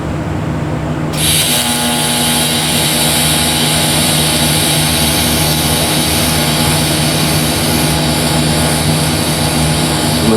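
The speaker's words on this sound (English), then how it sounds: "I'm going to join the top of that nut with that weld bead that I brought up" Arc welding a bead onto the top of a nut, joining it to a built-up weld on a threaded rod: a steady, loud crackling hiss starts abruptly about a second in and runs unbroken to the end, with no talk.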